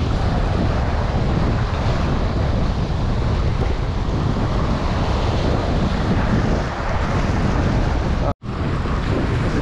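Waves break over a shallow reef, heard as loud, continuous broadband surf and wind roar close to the microphone, steady throughout apart from one very brief dropout near the end.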